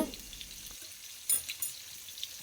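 Quiet, faint sizzling of fish frying in oil, with soft crackles and a few sharper pops.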